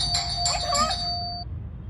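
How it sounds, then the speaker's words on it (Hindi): A doorbell chimes three times in quick succession, bright ringing tones with a lingering final ring, fairly near, over a quiet room background with a little low hum. "3 बार घंटी बजाएगा ये।"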